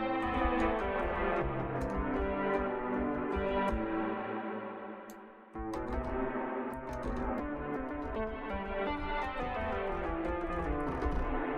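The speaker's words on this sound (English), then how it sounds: "If we move the ducker up, what happens is the instrument, it compresses, it pushes the reverb." An instrument such as a piano played through the Crystalline reverb plugin by Baby Audio on iOS with a ducker engaged, sustained shimmering notes washed in reverb, cut short by a brief drop midway before the sound resumes.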